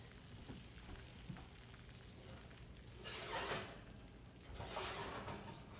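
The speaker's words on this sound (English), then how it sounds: "Yummy, it's all sizzling and yummy." Quiet, steady sizzling of bacon-wrapped chicken fingers frying, with a couple of slightly louder crackling swells.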